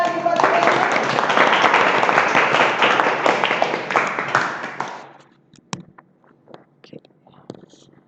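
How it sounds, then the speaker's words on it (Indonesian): A classroom of schoolchildren claps for a classmate named Shannon, with dense, steady applause that lasts about five seconds before breaking into a few scattered claps and taps over a quiet background. "Kita kasih aplaus sekali lagi buat Shannon."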